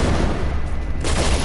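Gunfire in a PS4 shooter game during an RPG attack, a dense burst of shots and blasts filling the whole moment, loud and steady with no pause.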